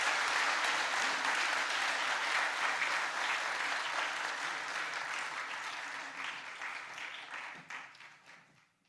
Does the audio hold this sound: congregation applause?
yes